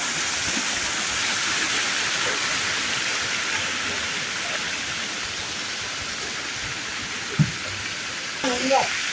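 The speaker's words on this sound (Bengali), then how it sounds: "উপর থেকে বৃষ্টির জল বা ঝর্ণার জল এই উঙ্গট নদীতে পড়ছে।" Steady broadband rush of rain and waterfall water pouring into the Umngot River at Dawki fills the whole clip, constant and fairly close, with a couple of brief knocks near the end.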